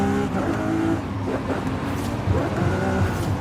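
A McLaren 720 GTR race car engine roars steadily in the video game Forza Horizon 5, loud and continuous with a rough mechanical drone.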